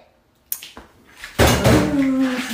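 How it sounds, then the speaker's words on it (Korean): Dishes and cutlery clatter during washing up: a couple of sharp knocks, then a loud, sustained jumble of clanking plates and rattling utensils close by. "먹었으니 설거지 좀 하지."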